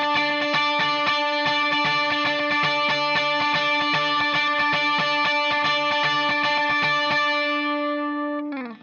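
Electric guitar played through distortion and effects strums an intro in steady eighth notes, a bright chiming two-bar figure repeating loud and alone before ringing out on a final sustained chord.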